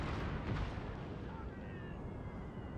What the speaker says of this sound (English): Cannons are going.